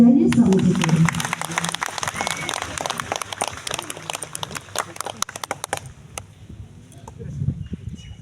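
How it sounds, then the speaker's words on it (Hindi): Loud applause from a school crowd at an Independence Day flag hoisting, honouring Swami ji, with dense clapping for the first seconds that thins into scattered claps and fades out. "और एक बार जोरदार तालियां बजाइए स्वामी जी के लिए।"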